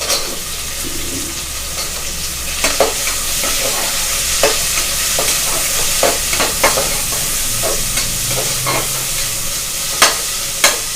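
Onions frying in a pan for a mutton curry (kulambu), with a steady sizzle and repeated sharp scrapes and taps of a stirring spoon against the pan throughout.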